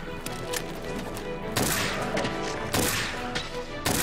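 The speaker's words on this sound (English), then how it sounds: "We'll use some pierce ammo on this fellow." A bowgun firing pierce ammo in the video game Monster Hunter World, with a run of sharp, loud shots and heavy impact thuds spaced irregularly over a few seconds, close and forceful.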